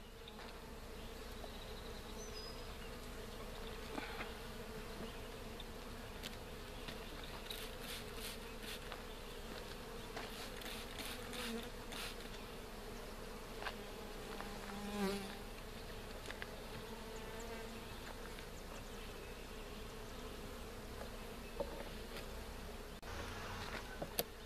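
Honey bees from a package hive buzz steadily around the hive in a constant, moderately faint drone, with occasional louder passes of single bees near the microphone and small handling clicks, no talking.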